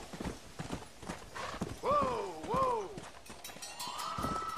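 Horse hooves clip-clopping at a gallop in Red Dead Redemption: Undead Nightmare, a rapid drumming of hoofbeats with two loud whinnying neighs midway, the horse's run continuing to the end.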